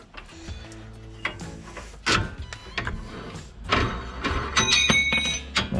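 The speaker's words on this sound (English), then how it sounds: "now I should be able to wind off the spring compressor" A spring compressor is wound off a Discovery 2 coil spring in a workshop, giving close, irregular metallic clicks, scrapes and clanks that build toward a louder, sustained rattle near the end.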